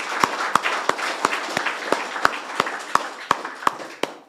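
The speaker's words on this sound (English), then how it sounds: "give them a round of applause" An audience at a Corpus Christi ribbon-cutting ceremony gives a round of applause, heard as a dense wash of clapping with a few sharp, evenly spaced claps standing out, moderately loud and steady.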